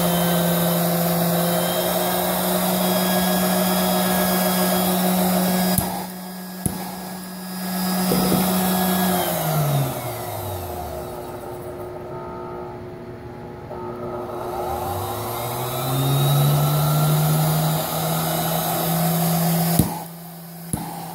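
Loud, steady roaring charcoal gasifier burner on a test bench, with a rising and falling drone, dipping low in the middle then climbing back, with a few sharp knocks.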